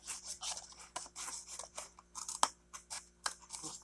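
Scissors snip leaves in a quick series of close, crisp cuts with light rubbing between them, each blade closure a sharp click, recorded indoors with no talking.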